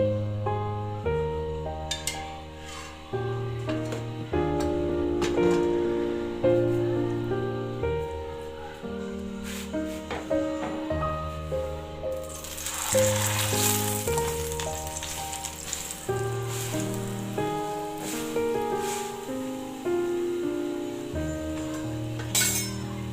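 A paratha brushed with cooking oil fries on a pan, a continuous sizzle that swells louder partway through, under prominent background music.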